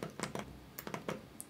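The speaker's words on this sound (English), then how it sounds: "type your PIN to confirm" Fingers tap a PIN on a keypad to confirm a Bluetooth pairing reset, about six soft quick clicks in an uneven rhythm, faint and close.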